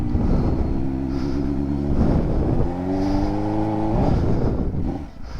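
A crashed Suzuki GSXR600 motorcycle pulls away on a cold day, its engine revving up and down through rising gear pulls, loud and close, with no talking.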